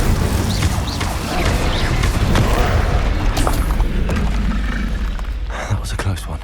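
Incendio fire spell cast during combat in the Hogwarts Legacy video game: a dense, loud wash of booming, crackling and crashing effects that runs continuously for several seconds.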